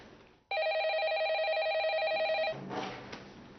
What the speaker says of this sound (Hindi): दिया बेटा फोन है